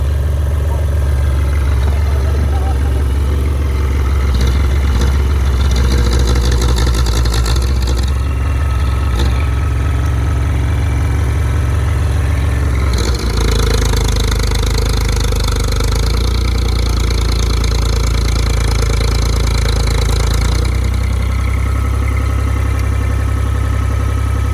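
A tractor engine runs steadily at a worksite where a test hole is being dug for a home race track, a loud continuous low drone that shifts in load and pitch partway through, with no talk over it.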